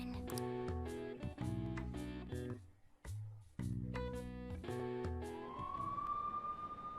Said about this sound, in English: Oh, police cars.